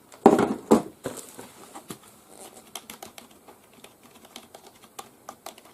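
Typing on a Logitech K275 wireless keyboard: a burst of louder key clacks at the start, then a steady run of lighter, quicker keystrokes, close and alone.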